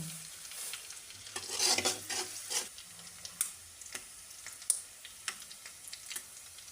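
Onions frying in a pan with bay leaves and cloves for a Bengali chicken roast, giving a soft steady sizzle broken by scraping stirs and a few sharper clicks of the spoon against the pan.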